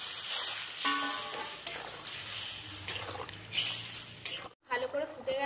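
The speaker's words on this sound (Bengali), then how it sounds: "এবার এর মধ্যে মশলা বাটা জলটা দিয়ে দেবো।" Spiced liquid of ground sesame and cumin is poured into a hot frying pan while cooking a rohu and eggplant curry, giving steady sizzling and bubbling with stirring scrapes and a brief splash, with a sharp hiss near the end.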